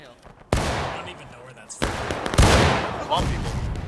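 Musket fire during a large multiplayer event battle in War of Rights, several loud sharp reports arriving at irregular intervals with echoing tails, crackling distant shots between them.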